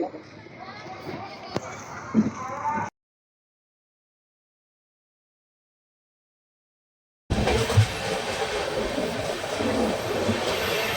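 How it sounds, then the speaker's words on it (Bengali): A moving passenger train near Dhanbad, Jharkhand rumbles with a steady rattling roll, heard with children and adults talking aboard, broken by a few seconds of silence midway. "তো আমাদের ট্রেন কিন্তু যথারীতি ছেড়ে দিয়েছে"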